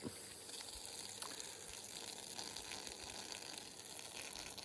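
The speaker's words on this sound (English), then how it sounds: "Piss break." A man urinates outdoors in the woods, a faint steady trickling stream of liquid hitting the ground amid quiet outdoor ambience, with no talking.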